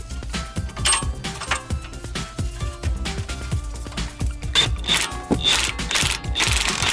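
A ratchet wrench tightens an 18 mm lower control arm bolt on a rear suspension, giving a rapid series of loud, close metallic clicks in quick bursts with no talking.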